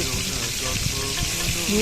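Steady sizzling of fish frying in hot oil in a wok, a dense crackling hiss running continuously and fairly loud throughout.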